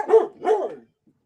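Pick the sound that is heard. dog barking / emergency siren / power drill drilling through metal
dog barking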